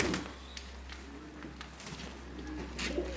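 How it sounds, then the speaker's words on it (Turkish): Pigeons in a coop make faint, low cooing sounds over a steady hum and background rustle, with scattered light clicks and no clear speech. "güvercinler bunlar arkadaşlar"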